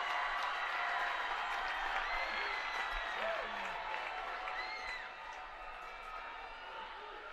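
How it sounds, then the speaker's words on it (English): A home crowd at a Grants Pass high school football game cheers and applauds near the end of play, a broad distant roar with faint whistles, over a steady hum that drops off late. "this Grants Pass crowd going to let their team hear it"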